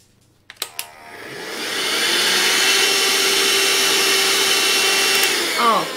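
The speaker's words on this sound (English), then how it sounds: "oh my gosh, my vacuum cleaner" A household vacuum cleaner switches on after a few clicks and runs with a steady loud whine and airy roar, then begins to wind down at the end.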